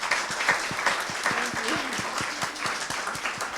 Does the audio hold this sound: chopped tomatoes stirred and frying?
no